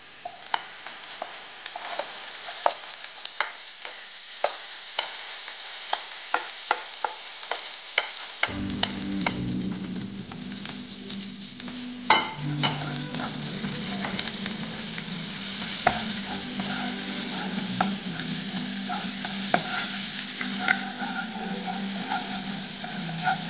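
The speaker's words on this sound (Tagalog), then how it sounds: "Isilog po natin ang sibuyas po." Onions sautéing in a pan make a steady, close sizzle, with a sharp crackle and scattered spatula clicks, and a lower frying rumble joins about a third of the way in and holds to the end.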